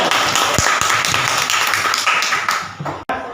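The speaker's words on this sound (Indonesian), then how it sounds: "Tepuk tangan buat teman-temannya." Classroom of schoolchildren applauding their classmates during an Islamic religious studies lesson, a loud, dense, continuous patter of clapping that stops abruptly near the end.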